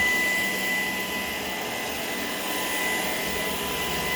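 A Shark PowerDetect vacuum cleaner runs steadily and close by, giving a constant, loud broadband whoosh of motor and suction with no pauses and no voices.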